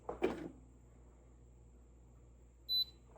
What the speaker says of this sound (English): wait for that beep